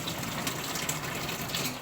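Water gushing from a kitchen tap, a steady close rush of running water with no talk.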